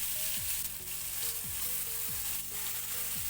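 Marinated chicken frying in hot oil in a grill pan gives a steady, dense sizzle that stays constant throughout, moderately quiet, with faint tonal hums underneath.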